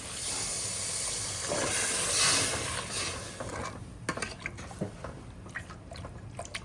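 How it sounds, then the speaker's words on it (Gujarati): Water poured into a pan of hot vegetable curry made with shrimp and brinjal gives a loud, broad hiss that swells for about two seconds, then fades into softer bubbling and small clinks. "અને હવે નાખવાનું છે પાણી."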